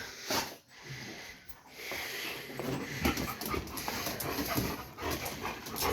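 Dogs at an upstairs kennel pant and snort steadily for several seconds, with short whimpers and snuffles close by and no talking.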